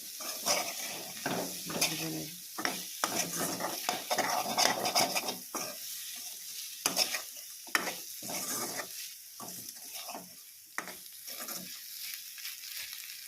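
Stir-frying in a pan while cooking a fish dish, with repeated scraping and clattering of a utensil against the pan over a continuous sizzle, in irregular bursts.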